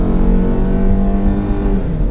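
Engine of a 1997 Honda Civic with almost no mileage revs steadily and loudly from inside the car, a sustained droning whine with no voices over it.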